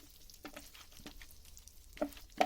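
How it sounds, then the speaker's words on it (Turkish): Chopped pieces of a Turkish çullama dessert frying in olive oil, a soft continuous sizzle with a few louder pops and stirring scrapes near the end, no talking. "zeytinyağında kızar, doğrayıp kızartıyoruz"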